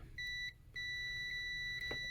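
A continuity tester gives steady high electronic beeps, one short tone then a longer sustained one after a brief gap, clear and close against a quiet hum.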